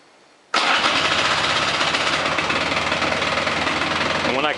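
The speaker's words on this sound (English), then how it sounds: "So I'm going to start the engine." A Polaris ATV engine with a suspected faulty CDI box cranks and catches abruptly after a brief quiet moment, then runs at a steady, loud, slightly rattly idle close by for several seconds, with no talking.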